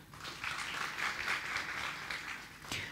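Audience at an awards ceremony clapping for arriving guests, moderate applause swelling in after a moment and holding steady, with a louder clap burst near the end.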